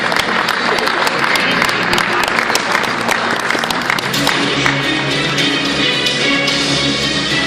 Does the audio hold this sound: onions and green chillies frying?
no